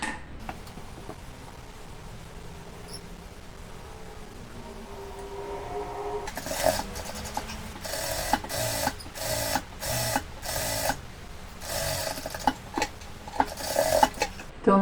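A sewing machine runs a seam around the border of a cotton dish towel in repeated bursts of fast stitching, close and fairly loud over a steady background hiss.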